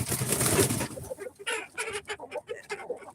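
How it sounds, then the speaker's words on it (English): Chickens in a farm pen cluck and squawk in short, uneven bursts. A loud flurry of sound comes first, then a series of separate clucks follows, close by and with no talk over them. "that one just disturbed those other chickens' sleep, and they're going to peck her until she leaves"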